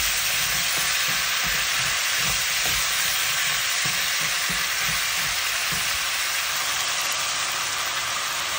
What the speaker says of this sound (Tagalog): Tapos imetos-metos lang natin yan.